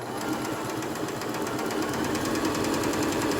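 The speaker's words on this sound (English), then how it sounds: "I can lower the presser foot, start sewing." A Babylock Zest sewing machine runs steadily at close range, giving an even, rapid mechanical chatter of stitching with no pauses or talking.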